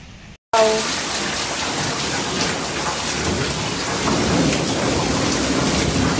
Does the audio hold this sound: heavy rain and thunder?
yes